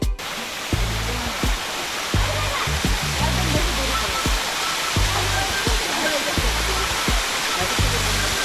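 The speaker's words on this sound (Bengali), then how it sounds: "হিমছড়ি পাহাড়ের গা বেয়ে নেমে আসা দেশের একমাত্র শীতল পানির এই ঝর্ণাটি" Himchhari's cold-water waterfall pours down a hillside at Cox's Bazar, a loud, continuous broadband rush with low, faint voices underneath.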